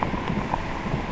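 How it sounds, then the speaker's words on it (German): Heavy rain pours down during a canoe trip on Lake Saimaa in Finland, a dense, steady hiss of drops close to the microphone with no talk over it. "Regnet gerade auch echt krass."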